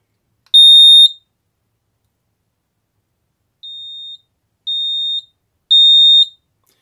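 Four shrill electronic beeps from a Xiaomi Honeywell Zigbee smoke alarm with its button held, each a steady high tone, the first loud, the second quieter, then progressively louder again, separated by silence.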